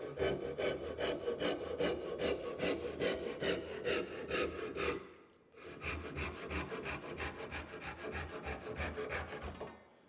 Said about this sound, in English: We could try the rip teeth on the crosscut.